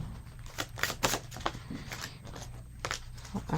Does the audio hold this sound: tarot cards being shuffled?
yes